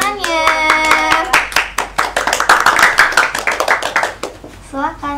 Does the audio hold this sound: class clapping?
yes